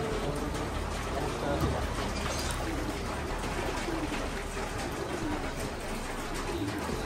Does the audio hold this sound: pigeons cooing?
yes